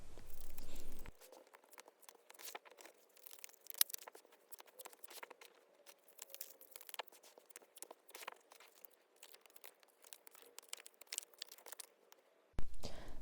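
Tarot cards drawn from a deck and spread out on a surface: soft, scattered rustles, slides and papery taps, fairly quiet and close, with no talking.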